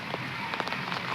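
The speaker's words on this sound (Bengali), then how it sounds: "বৃষ্টির দিনের ওয়েদার দেখেন, বাইরে" Heavy rain falls outside on a waterlogged street near a mosque, a steady dense hiss of drops with a few slightly louder spatters, continuous and moderately near with no voices.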